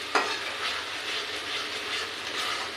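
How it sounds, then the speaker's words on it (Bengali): Spice paste for doi katla fish curry fries in a pan, giving a soft continuous hiss with faint scraping stir strokes and one small knock near the start; quiet, steady and without talk. "এটা দিয়ে অল্প সময় লাড়াচাড়া করে কষিয়ে নিব।"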